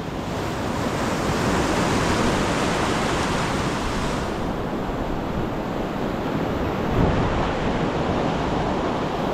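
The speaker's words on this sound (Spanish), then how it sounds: "Te agarró la ola con todo." Ocean surf crashing onto a beach, a steady dense roar of breaking waves that stays loud throughout, with a brief surge near the end and wind buffeting the microphone.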